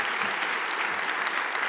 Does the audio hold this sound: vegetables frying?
no